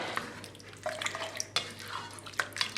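A pot of water boiling on the stove for spaghetti gives a soft steady bubbling hiss with occasional louder pops and gurgles, close and moderately quiet, with no talking.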